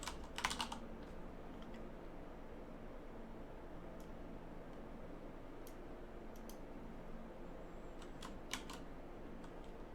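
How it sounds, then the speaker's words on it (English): Computer keyboard keys tapped in a couple of quick bursts near the start, then a few scattered clicks over a steady low room hum and hiss, fairly quiet throughout. "We're just going to type localhost"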